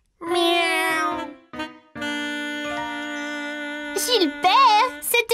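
A voice imitates a cartoon cat's meow in the French-dubbed Caillou animated series: a few drawn-out, pitch-bending mewing calls over sustained tonal music, loud and close.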